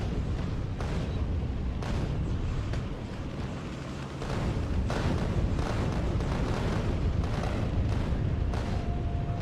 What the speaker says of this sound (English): Those exploding biters are faster than me.